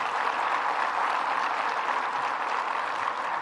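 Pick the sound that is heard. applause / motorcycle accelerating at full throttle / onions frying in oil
applause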